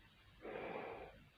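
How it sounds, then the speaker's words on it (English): A muffled, breathy voice passes through the voice diaphragm of a Polish MP6 gas mask, giving a short hollow, filtered exhale-like sound, close and quiet. "Its voice diaphragm sounds like this."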